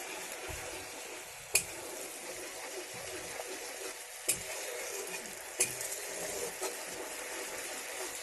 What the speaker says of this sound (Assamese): এতিয়া আমি চচটো মিক্স কৰি ল'ম ভালকৈ।